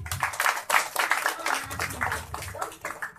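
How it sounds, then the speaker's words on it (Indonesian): An audience at an art performance claps in a steady burst of applause, with pulsing waves of clapping and a faint low rumble of crowd underneath. "Oh, tepuk tangan buat Ferry."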